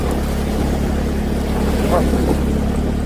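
A Yamaha Mio Gravis scooter fords a shallow river with sandbags, its engine droning steadily beneath a continuous wash of splashing water, loud and close throughout.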